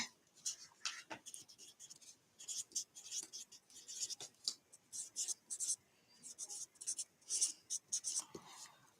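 A pen writes on paper in short scratchy bursts of strokes, close and quiet, with brief pauses between words, in an English class exam setting.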